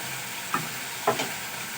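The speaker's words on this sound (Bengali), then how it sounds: "এটাকে কষিয়ে নেব যতক্ষণ না মশলা থেকে তেল ছাড়তে শুরু করবে" Spice paste frying in oil gives a soft background sizzle, broken by two short scraping stirs of a spatula in the pan, with no talking.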